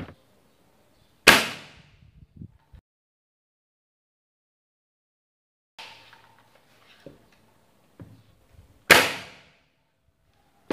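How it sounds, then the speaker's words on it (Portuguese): Two sharp air rifle shots from a gas-ram (gas piston) rifle, one near the start and another several seconds later, each a loud crack with a quick decay, separated by quiet handling clicks and knocks. "Pronto, demos dois disparos."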